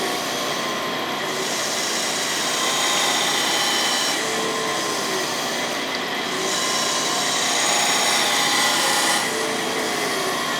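A camshaft grinder makes a finish pass on a Model A camshaft being reground to race spec, giving a continuous dense grinding whir that swells slightly in even cycles every few seconds, loud and steady with no voices.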